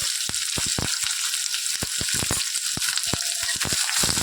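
Curry leaves and chopped medium onions frying in hot oil for a tomato chutney, a loud continuous sizzle broken by rapid crackling pops throughout, no voices.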